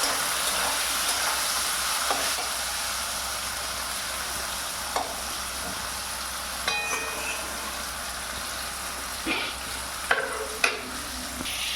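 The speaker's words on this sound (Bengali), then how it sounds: "পেঁয়াজ আর টমেটো কিন্তু প্রায় ভাজা হয়ে গেছে" Onions and tomatoes fry in a pan under a constant close sizzle, punctuated by occasional scrapes and knocks of a spatula stirring.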